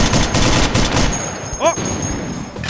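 Burst of rapid gunfire in the VR shooter game H3VR during a Meat Fortress match, sharp dense shots filling the first second, then a quieter stretch with a few whooshing effects.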